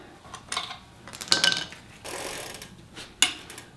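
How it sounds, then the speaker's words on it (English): Sharp metallic clicks and ratcheting taps come as a number 8 Allen wrench loosens the crank arm bolt on the non-drive side of a Kingstar e-bike, a few close, quiet bursts with brief pauses between them. "we're just going to use a number 8 Allen. Remove the crank arm bolt."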